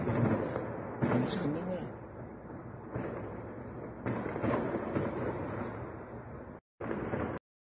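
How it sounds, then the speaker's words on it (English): Grenade explosions in news footage from the Iran conflict sound as a string of loud, rumbling blasts with crackling bursts, heavy and distant-sounding, as a man briefly exclaims near the end before the sound cuts out. "those are grenades."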